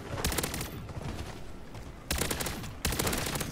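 Rapid automatic gunfire from the FJX in the Call of Duty MW3 Zombies game: a loud sustained burst, then two more bursts after a short break, close and dominant with no talk.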